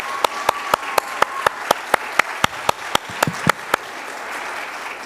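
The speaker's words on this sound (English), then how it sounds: "One more round of applause for the great work they're doing." An audience at a Shabbat celebration applauds gun violence prevention advocates from a teen tzedakah group. Steady crowd clapping runs throughout, with sharp, evenly spaced louder claps cutting through before it thins out near the end.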